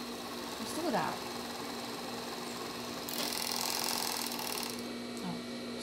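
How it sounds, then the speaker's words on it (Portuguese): A sewing machine steadily stitches lace panties with a continuous mechanical whir and hum. A burst of faster, louder stitching comes midway, and a voice speaks faintly underneath. "Costuramos essa parte."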